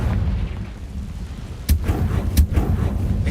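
A Confringo fire spell in a Hogwarts wizard video game goes off as two sharp, loud blasts about a second apart over a constant deep rumbling game backdrop, with no voices.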